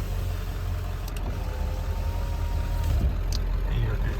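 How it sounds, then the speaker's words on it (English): A 1995 Ford E350 Type III ambulance idling with its 7.3 liter Power Stroke turbo diesel, a steady loud low drone and clatter throughout, with a faint whine and brief clicks. "This is a turbo diesel engine."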